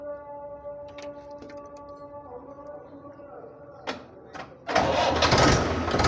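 A Mahindra tractor under hydraulic repair cranks and fires up near the end, its engine bursting into a loud, steady running roar after a few seconds of quiet background hum and small knocks.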